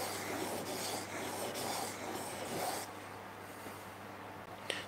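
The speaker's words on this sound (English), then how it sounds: "I'm going to use the fine edge of the stone, or the fine face, the fine side." A tool is honed by hand on the fine side of a sharpening stone of roughly 800 to 1000 grit in a woodshop. Steady rasping strokes repeat in a close, even rhythm with no talk, ending in a faint click.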